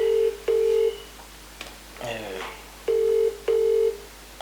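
A telephone call rings out unanswered, steady paired ringback tones repeating in a regular double-pulse pattern, loud and close, with a brief burst of talk in the gap between rings.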